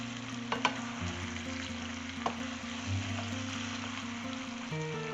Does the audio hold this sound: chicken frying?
yes